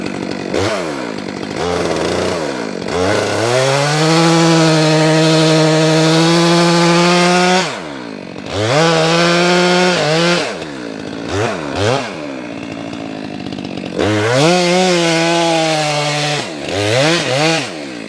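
A chainsaw bucks cedar and pine firewood, loud and close, revving hard through long cuts, then dropping to idle between them and revving again.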